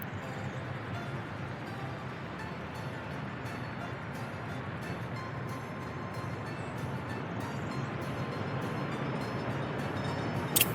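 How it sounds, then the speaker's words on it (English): A train from the game Workers & Resources: Soviet Republic rolls through in a continuous low rumble that builds slightly, with steady clattering texture and a brief sharp click near the end. "Oh, actually got a train coming through here."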